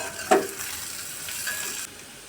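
Bitter gourd curry frying in a pan gives a steady, soft sizzle while salt is stirred in, with one sharp scrape of the spoon early on. The sizzle cuts off near the end.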